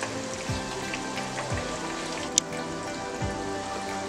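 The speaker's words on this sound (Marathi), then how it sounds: "चांगले खरपूस होईपर्यंत फ्राय करून घ्यायचे दोन्ही पण साईडनी" Leftover rice snacks fry in a pan over medium heat, a soft, steady sizzle with scattered light pops and crackles, fairly quiet throughout.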